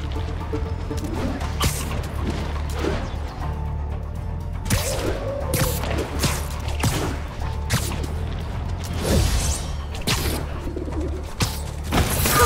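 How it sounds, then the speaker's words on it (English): A pigeon coos in Marvel's Spider-Man on PS4, its soft low calls mixed with sharp clicks, whooshes and game sounds. "Pigeon! No. Don't fly away, please!"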